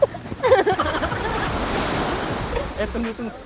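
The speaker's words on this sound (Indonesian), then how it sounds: "nih kita lagi mantai di Pantai Kuta kan" Surf and gusty wind at Kuta Beach in Bali, a steady loud wash of breaking waves with wind buffeting the microphone, with faint voices briefly audible.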